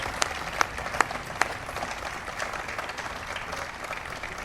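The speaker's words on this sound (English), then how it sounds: "Please give them a big round of applause" Audience applause for congressional representatives at a signing event for a US tobacco control and youth protection law, a steady wash of clapping with a few sharper claps standing out early on.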